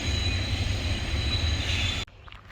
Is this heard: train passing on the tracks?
yes